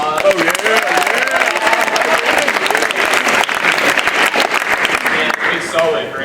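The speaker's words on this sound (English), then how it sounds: "let's all give him another round of applause" A school debate audience applauds the moderator with dense, sustained clapping from many hands, a loud continuous wash that lasts several seconds before tapering slightly, with voices mixed in.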